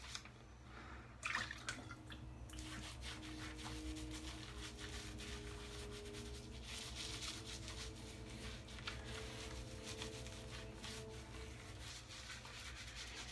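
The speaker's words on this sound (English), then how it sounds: "Rinse my hands." Water runs in a steady, soft wash as hands are rinsed in a sink during a shave at home, with faint rubbing and splashing sounds from the hands under the quiet stream.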